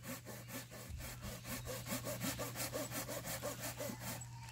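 A saw cuts through a thick branch of an old apple-jujube tree outdoors in steady, rhythmic back-and-forth strokes. The rasping is continuous and moderately close, with no talking.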